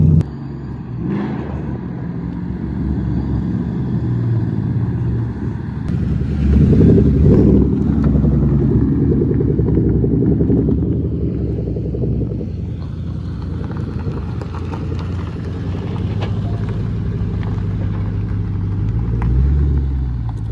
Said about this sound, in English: I'm going to let the car warm up a little bit.